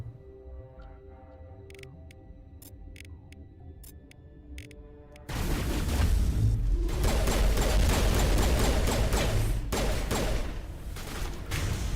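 Bursts of in-game gunfire from Mass Effect Legendary Edition, a sustained loud fusillade of weapon shots that erupts partway through after a quieter stretch of sparse ticking and electronic blips.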